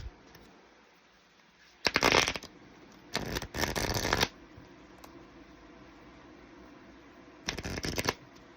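A deck of oracle cards is shuffled close up in three separate bursts of dense, papery riffling, with quiet pauses in between and no talking.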